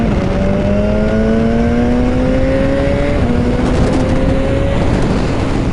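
Loud, steady BMW S1000 R motorcycle engine revving and holding high rpm throughout, with rising whining tones that climb and briefly shift, close to the listener with no talking.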